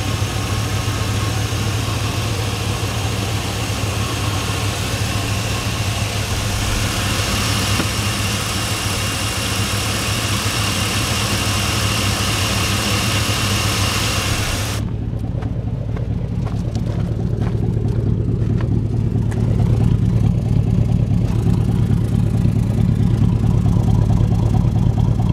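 A Chevy Bubble Eye 2500 HD pickup's engine idles steadily and smoothly up close with a low, even rumble, its tone thickening and growing slightly louder partway through, with no voices.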